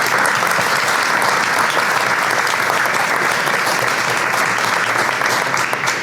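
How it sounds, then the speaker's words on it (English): A seated audience gives a big round of applause to welcome a speaker. The clapping is dense and continuous, even and sustained for the whole stretch, with no voices over it. "I would like a big round applause."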